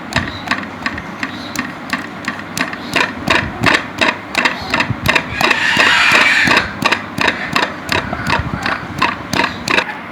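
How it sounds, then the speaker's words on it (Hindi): Green chillies for a raw mango chutney are pounded with a pestle, a steady run of about twenty loud, close, rhythmic knocks with a brief grinding stretch in the middle. "इसे हम पीस लेंगे।"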